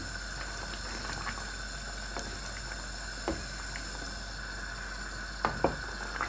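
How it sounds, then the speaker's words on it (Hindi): A pot of vadiyan broth made with lentil dumplings and whole green chilies bubbles at a boil, a steady low hiss and burble with a few soft pops near the end. "अब बड़ियों का शोरबा जो है उसको उबाल आ गया"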